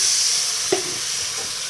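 Water poured into a pan of frying spice paste brings a steady, loud sizzling hiss with a short bubbling pop partway through, continuing close and unbroken.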